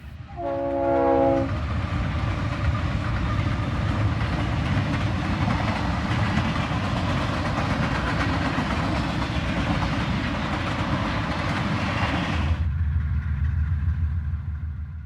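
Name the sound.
freight train departing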